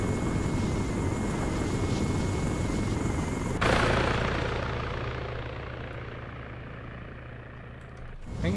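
A helicopter in the video game ARMA 3 drones with a constant, heavy rotor and engine hum. It is loud and steady, its tone shifts partway through, and no voices are heard.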